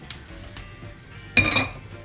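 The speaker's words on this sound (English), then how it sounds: "My beautiful wok we put on." A wok goes down onto a stove with a short metallic clatter, a brief light clink first and then a louder scraping clank, close by.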